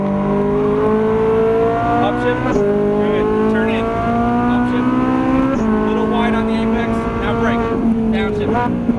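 A Ferrari 458 Italia on a race track pulls hard, its engine note climbing repeatedly with sharp breaks between gears. The loud, close engine runs continuously throughout.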